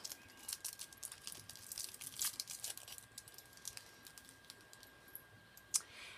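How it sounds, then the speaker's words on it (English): Thin plastic wrapping peeled and crinkled off small watercolor paint pans from a Prima Confections Tropicals set, a close, quiet run of scattered crackles and ticks with a sharper crinkle near the end. "I'm going to go ahead and unwrap them."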